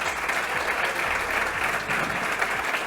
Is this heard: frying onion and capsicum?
no